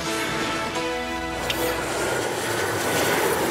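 An airplane at BWI airport, a steady broadband engine roar that holds loud and continuous throughout, with a brief tonal whine near the start and no talk over it.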